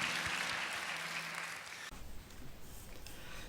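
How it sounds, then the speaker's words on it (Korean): Worshippers in a church applaud one another, a dense, sustained wash of many hands clapping at moderate volume, with a low hum under it that cuts off partway through while the clapping carries on unevenly. "서로에게 축복의 박수를 드립니다"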